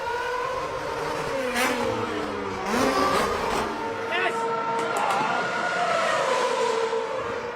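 2013-season Formula 1 cars race and brake, engines wailing with rising and falling pitch as cars pass and shift, a high-revving scream heard over crowd and track ambience.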